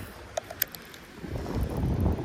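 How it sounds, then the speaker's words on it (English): Wind blows outdoors while fishing with a big blade chatterbait, a low rumbling gust that builds and swells over the second half after a few faint clicks and ticks. "this wind doesn't help"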